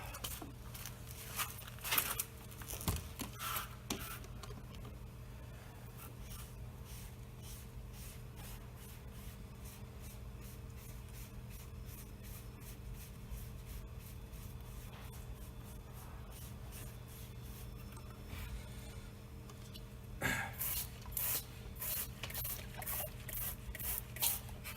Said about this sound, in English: part of the reason too of why I'm spraying with water is to just rinse the dust off of the white wall